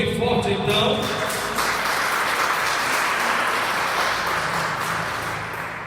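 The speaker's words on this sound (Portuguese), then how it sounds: "Vamos aplaudir o Senhor bem forte então." A church congregation applauds loudly at a worship service, a dense, sustained clatter of many hands over about six seconds that tapers slightly at the end.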